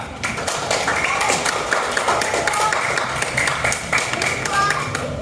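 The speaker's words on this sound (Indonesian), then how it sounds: "Tepuk tangan buat Dafa." A classroom of students claps for a classmate, brisk rapid clapping from many hands that stays steady and close throughout, with a few voices mixed in.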